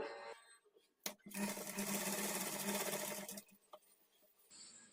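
A sewing machine runs in one steady, loud burst of about two seconds while stitching blouse hemming-strip pieces together at a quarter-inch margin, with a few quiet handling clicks before and after.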